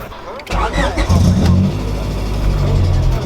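A car engine cranks and catches, then settles into a loud, rumbling idle up close, with people talking over it.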